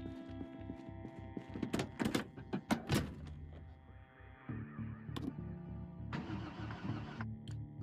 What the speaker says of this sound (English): Go ahead and start the car and begin our journey.